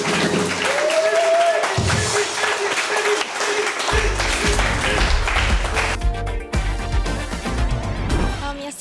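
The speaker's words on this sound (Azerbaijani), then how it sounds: "uşaqlar bir də alqışlayın da çox pisdir zarafatı" An audience claps during an Azerbaijani comedy talk show, the applause steady and loud throughout while music and voices mingle with it in the later part.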